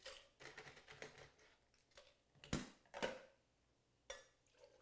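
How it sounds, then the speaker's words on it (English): Ice cubes dropped into the large tin of a cocktail shaker for a whiskey sour, a few sharp clattering bursts at irregular intervals with quieter gaps between, close and crisp. "Ice into our big tin."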